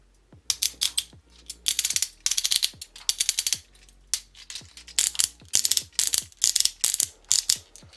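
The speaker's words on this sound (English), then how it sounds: "A pretty decent ratchet at the knee" A Transformers figure's ratcheted knee joint gives crisp, close clicks in quick bursts, each run of rapid ratchet ticks followed by a brief pause.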